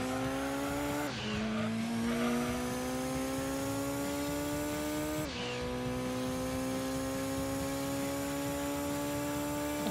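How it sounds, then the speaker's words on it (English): Race cars from Gran Turismo 2 roar at steady high revs, with a Venturi ramming a TVR from behind. The loud engine tones hold steady apart from two abrupt dips around shifts or impacts, and no voices are heard. "Venturi just fucking rammed the ass of my TVR"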